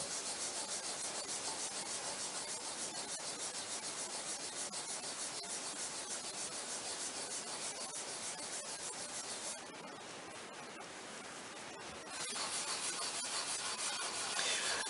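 Victorian-recipe wax paste polish being rubbed into wood with an old cotton stocking, a steady close scrubbing hiss that pauses briefly and then resumes.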